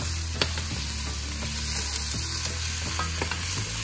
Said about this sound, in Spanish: Vamos a sofreír la cebolla hasta que esta dore un poquito.